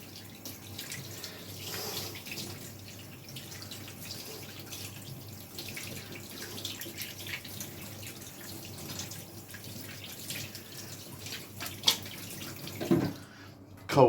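Cold water runs steadily from a tap into a sink while rinsing off bread dough, a soft constant splashing hiss close by, with a few clinks near the end.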